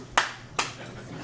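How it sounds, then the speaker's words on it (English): Two lone, sharp handclaps from a single audience member in a comedy club, spaced apart and fairly close, each ringing briefly in an otherwise quiet room. "One hand clap is the loneliest hand"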